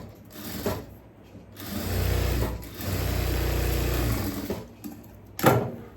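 A sewing machine stitches a churidhar yoke neck in short runs, its close, rapid whirring hum rising and stopping between bursts, with no talk.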